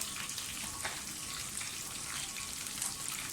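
Chickpea masala frying in a pan as turmeric powder goes in, a soft steady sizzle and crackle with faint bubbling throughout, no voices.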